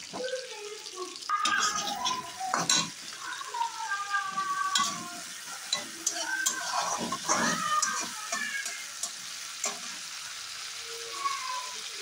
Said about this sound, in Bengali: পেঁয়াজ টমেটো এগুলো একটু ভেজে নিব তেলটাতে